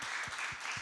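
Applause from a church congregation during a worship service, a steady broadband patter of many hands clapping that fills the whole short moment without a break, with no talking over it.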